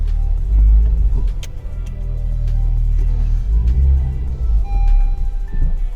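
Honda Civic Type R FK8 engine dies after its immobiliser triggers: a loud, close idle rumble wavers, then dips and settles, with faint ticks and clicks over it and no talking.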